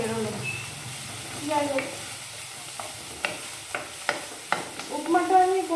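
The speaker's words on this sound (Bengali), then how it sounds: "আর এখন তেলের উপর দিলাম, সেন্টটা একটু কেমন যেন বেরোলো।" Curry leaves sizzle and crackle in hot oil, a steady frying hiss under scattered sharp pops and stirring clatter, with someone talking briefly over it.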